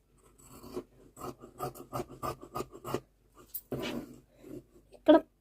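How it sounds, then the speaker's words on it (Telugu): Scissors cut blouse fabric around the neckline, making a close, quiet series of rhythmic snips and soft rasping cuts, with brief gaps between them. "ఇప్పుడు మెడ భాగం కటింగ్ చేస్తున్నాము"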